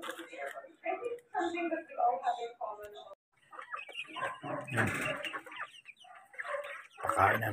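Rhode Island hens cluck and murmur in short bursts close by during feeding, with a person talking intermittently among them.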